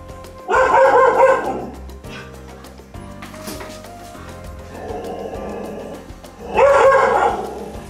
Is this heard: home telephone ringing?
no